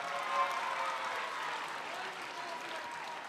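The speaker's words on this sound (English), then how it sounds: "how about we give another round of applause for the performers who were just on the floor here" Steady applause from a school audience for performers at an elementary school Lunar New Year celebration, continuous and fairly even throughout with no individual voices standing out.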